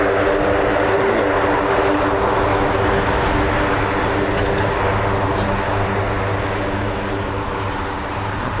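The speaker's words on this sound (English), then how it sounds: "I wonder if this is going to take off from here" Military aircraft engines at an RAF airbase with USAF tankers, MC-130J and CV-22 Osprey, giving a loud, steady propeller and turbine roar that drones without break throughout.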